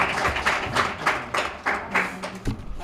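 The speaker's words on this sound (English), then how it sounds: "Let's give him a round of applause, please." Short, uneven round of applause from a small audience at a customer service week convention, a few distinct clusters of claps heard nearby, with a voice faintly present.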